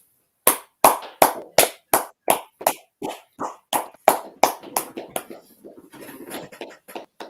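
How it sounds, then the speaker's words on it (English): A class audience claps together in a string of sharp, distinct hand claps that start in unison and loosen into a scattered, fading patter, close and fairly quiet. "Let's clap it up."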